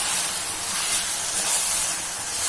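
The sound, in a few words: gongura (sorrel leaves) sizzling as they fry in oil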